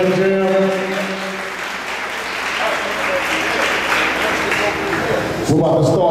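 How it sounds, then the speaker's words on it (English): Audience applause at a hip-hop pen jam event in the Bronx, New York, a dense, steady crowd clapping that holds loud for several seconds before a voice cuts in near the end. "Give yourselves a round of applause"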